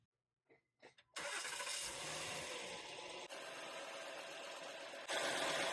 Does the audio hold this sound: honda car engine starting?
yes